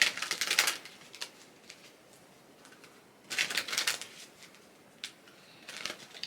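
Playing cards are shuffled and pulled in two dense riffling bursts of crisp fluttering slaps, close and fairly loud, separated by quiet stretches with a few isolated snaps and flicks.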